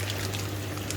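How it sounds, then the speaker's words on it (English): Pond water trickling and pouring steadily into an indoor koi grow-on tank, a continuous close splashing stream with a low steady hum of equipment underneath, no voices. "I'll just put a bit of the pond water in with it for the pH"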